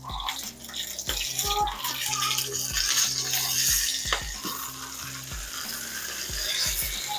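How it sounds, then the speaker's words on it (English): Surf and turf searing in a hot pan on a stovetop over medium-high heat, a steady close sizzle with occasional clinks and scrapes from cookware throughout. "Ooh, that's a good sear."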